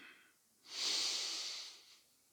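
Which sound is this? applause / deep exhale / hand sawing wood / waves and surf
deep exhale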